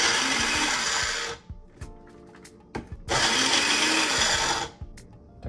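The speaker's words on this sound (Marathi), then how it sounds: "आता हे मी मिक्सरमध्ये लावणार आहे. मिरची, आलं, कढीपत्ता आणि लसूण." A kitchen mixer grinder grinds green chili, ginger, curry leaves and garlic in two loud, close whirring bursts, with a short pause between them filled with small knocks and rattles of the jar.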